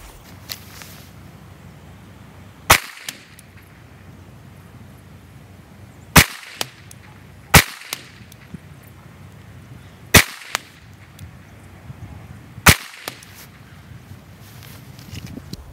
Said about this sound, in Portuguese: Sacar a arma do coldre, 5 tiros na bola com o número 1 em fogo lento.